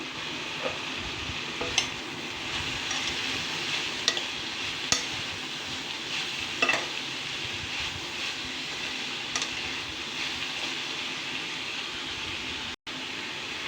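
Green capsicum and beans being stirred in a hot pan for a homemade pizza topping, a continuous soft sizzle with scattered clicks and scrapes of a spatula, close and steady, no voices.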